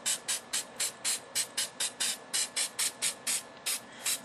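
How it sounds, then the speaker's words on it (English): Rapid series of short aerosol spray-paint bursts onto a painting, about a dozen quick hissing puffs in steady rhythm, close and crisp with no talking. "And we're just going to spray it on"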